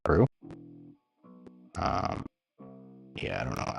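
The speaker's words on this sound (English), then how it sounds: "when it clips, it's adding a little more distortion, so it still can go through, cut through." A mix being mastered in Studio One, with clipping adding harsh distortion to short bursts of music separated by brief silences.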